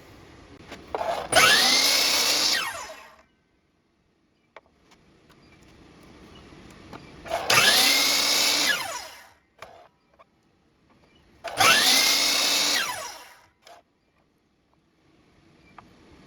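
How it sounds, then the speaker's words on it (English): Drilling a Chinese elm slimline pen blank, with three separate loud bursts of machine grinding, each lasting about two seconds, set apart by quieter pauses with faint handling noises. "I'm gonna go cut it and drill it and get it ready to turn."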